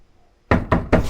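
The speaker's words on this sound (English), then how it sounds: "It's knocking." Three firm, evenly spaced knocks on a door in a TV horror series ring out loud and close after a brief quiet.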